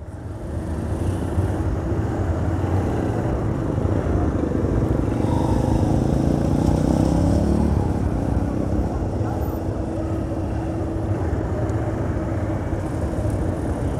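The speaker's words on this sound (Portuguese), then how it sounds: "Muita moto, viu?" Steady drone of engines from many motorcycles passing along a busy street in the north zone of Natal, Brazil, a dense continuous traffic rumble with occasional louder passes nearby.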